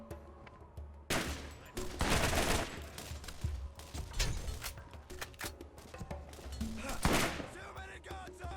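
Gunfire in the video game Borderlands, bursts of rapid shots and heavy impacts over several seconds, loud and close, with a voice speaking between them.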